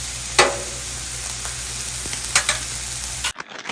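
Vegetables cook on a flat griddle with an even, moderate sizzle, a few brief spatula scrapes and taps, and the sound cuts off abruptly near the end.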